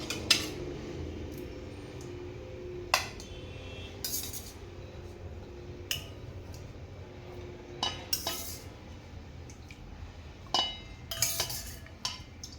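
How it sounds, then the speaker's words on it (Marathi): Boiled moringa drumsticks are lifted from a metal pot onto a plate, making a run of quiet, irregular metallic clinks and scrapes of utensils against cookware, close by, with no talking. "आता त्याला पातेल्यातून प्लेटमध्ये काढून घेणार आहे."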